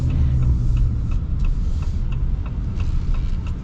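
A 2026 Ram 2500 Laramie pickup truck on the move, heard from inside as a steady low road rumble with faint ticking and knocks from the road surface, loud and continuous with no speech.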